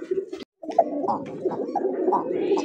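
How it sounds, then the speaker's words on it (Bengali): An akashi (sky-blue) golla pigeon coos in a soft, rolling series of throaty notes, close and fairly clear, with one short pause early on. "আকাশি কালার গোল্লা কবুতর, খুব সুন্দর ডাকে"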